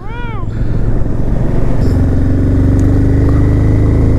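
A motorcycle rolls steadily through a dense pine forest in North Sikkim, its engine droning continuously and close, with a brief rising whine at the start and voices talking faintly over the ride.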